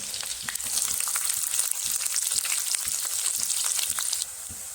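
Green chilli, crushed garlic and sliced onion fry in hot oil in a pan, a close, bright, crackling sizzle that runs steadily throughout with faint stirring knocks underneath, with no talk.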